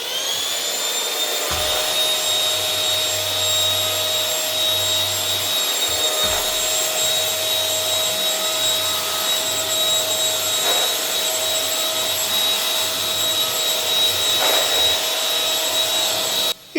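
A Silvercrest SMS 300 B2 handheld anti-dust-mite vacuum cleaner runs steadily throughout, a loud constant motor whine with a faint low hum dropping in and out as it is worked over a mattress.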